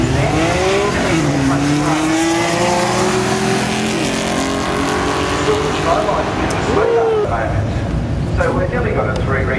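Drifting cars at a Powercruise event during drift practice, engines revving up and down with tire squeal across the whole stretch, loud and continuous amid background voices.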